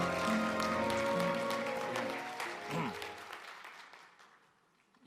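Conference audience at the Key Platform 2017 closing session applauds to welcome a speaker, full clapping over a faint musical tone that gradually dies away into near silence.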